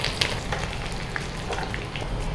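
Oil sizzles steadily in a pan as a tempering of cumin, crushed garlic and curry leaves fries for a peanut chutney, a close, continuous crackle with small spitting pops and no talking.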